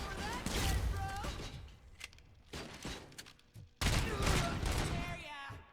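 Gunfire in the RoboCop Rogue City video game, loud bursts of rapid shots that stop for a moment and then resume, with excited voices shouting over the action.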